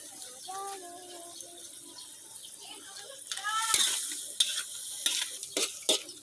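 String beans (sitaw) stir-fry in a hot pan with a close, steady sizzle and bursts of scraping and tossing that grow louder toward the end, with a brief voice heard early on.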